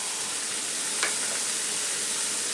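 Green pepper and onion sauté in oil in a hot sauté pan for a Western omelette, giving a steady, close sizzle that fills the whole clip, with a brief brighter crackle partway through and no talking.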